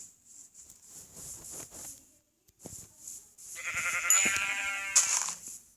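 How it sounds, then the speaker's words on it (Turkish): Synthetic Minecraft sheep bleats repeat several times with brief pauses, ending in a louder, longer bleat near the end; no one speaks. "evet koyunmuş"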